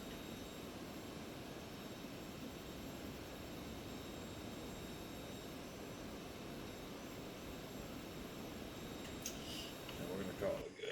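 A Citation Sovereign jet taxis toward runway 22 in a flight simulator, its engine a steady, even whine and rumble that holds level throughout with a few small clicks near the end.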